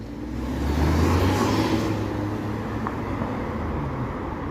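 Steady traffic rolling along Markham Street in Toronto's West End on a Friday evening, a continuous low road rumble with one car swelling past nearby early on, no voices.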